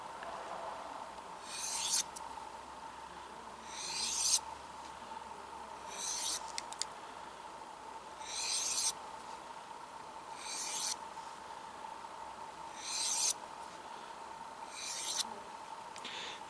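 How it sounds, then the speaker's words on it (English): Light, even strokes of a Henckels chef's knife drawn along a diamond steel, about eight quiet rasping passes spaced roughly two seconds apart over a steady low hum. "we'll just refine it a little bit now on the diamond steel"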